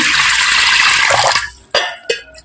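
Water pours steadily and loudly into a cooking pot for soaking rice, a dense continuous splash for about a second and a half, then stopping, followed by two short clinks or drips.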